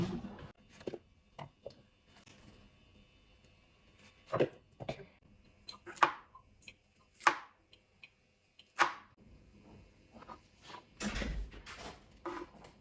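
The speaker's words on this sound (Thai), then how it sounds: "ต่อไปก็จะเป็นขั้นตอนของการเตรียมเห็ดนะคะ" Mushrooms being chopped with a knife on a cutting board, heard as irregular close, sharp chops and taps with pauses between them, the louder strokes clustered midway and another burst near the end, with no talking.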